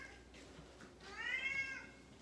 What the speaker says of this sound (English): Big time meowing. Massive meowing.